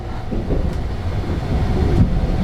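Train at Kyoto Station at night, a loud continuous low rumble of rolling wheels and machinery with faint clicks, no talking.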